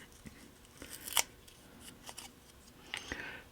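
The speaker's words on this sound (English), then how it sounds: "Now we can cut our walls out. I'm using a brand new blade." A brand new craft blade slices out paper walls for a miniature news stand, giving a few close, crisp cutting and crackling strokes in short bursts separated by quiet pauses.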